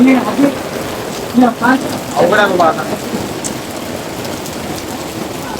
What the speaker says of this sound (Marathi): खूप मोठा पाऊस पडत बघू शकता